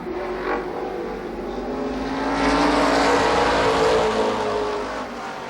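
Race cars roar around Columbus Motor Speedway in 1993 during the Nuckles Memorial, a continuous engine drone that swells louder as the pack passes, with no talk over it.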